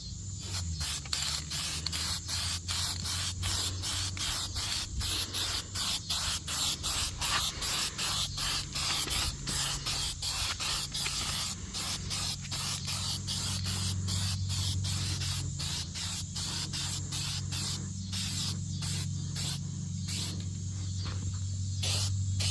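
Spray paint hisses from an aerosol can onto a BMW F30 rear diffuser in steady, continuous bursts with brief pauses between passes, close and loud, with no talking.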